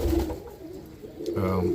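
Roller pigeon hens coo in a loft holding about twenty birds, soft repeated throaty calls close by, with a voice speaking briefly over them.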